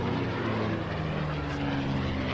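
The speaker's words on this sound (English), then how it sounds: "this aircraft now flies as a tribute to him" A vintage bare-metal propeller aircraft flies at an air festival, its engine a continuous droning roar with a steady low hum, evenly loud and fairly distant throughout, with no talking.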